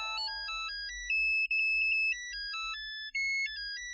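An electronic phone ringtone plays a bright, looping melody of beeping tones, loud and clear, with no voices.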